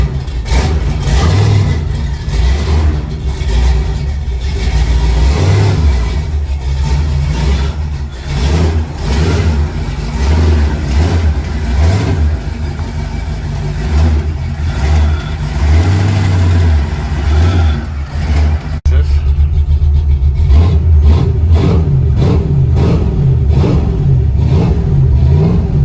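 Car engine in an old car nicknamed Cracko revs repeatedly after the gear shift is moved, loud and close with rising and falling surges, with louder revving near the end.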